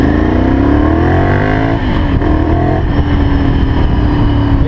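Ducati Monster 796 motorcycle engine droning loud and close while riding, a steady throaty roar with a gentle rise in pitch and no voices over it.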